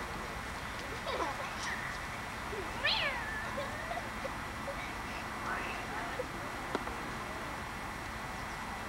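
A cat gives a few faint, rising meows over steady background noise, with a quiet voice nearby.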